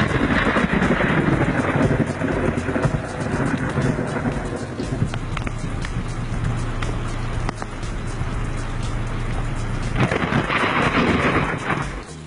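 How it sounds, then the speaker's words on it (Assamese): Heavy, unbroken rain in cold weather in Jorhat, Assam, a dense loud hiss that stays steady throughout, with a low rumble underneath and no voices. "যোৰহাটত ঠেঁটুৱৈ ধৰা জাৰ, তাতে নেৰা নেপেৰা বৰষুণ"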